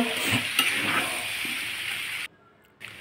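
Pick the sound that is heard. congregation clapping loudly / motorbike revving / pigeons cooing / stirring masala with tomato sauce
stirring masala with tomato sauce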